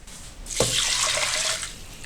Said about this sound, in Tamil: சேர்த்துட்டு என்னென்னா இதை வந்து தண்ணியில் வாஷ் பண்ணிக்கிறோம்.